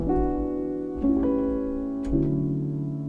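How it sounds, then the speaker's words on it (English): Three sustained jazz chords with extensions, a 2-5-1 progression on a keyboard, each struck about a second apart and ringing out, with no talking. "a 2-5-1 with this section or with these like jazz extensions would sound like this"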